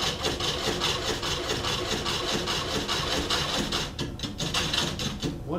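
Wood lathe turning a large table top while a beading parting tool cuts about half an inch deep, producing a steady, dense, close scraping and rasping roar that holds nearly unbroken throughout.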